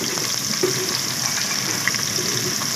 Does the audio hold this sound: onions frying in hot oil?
yes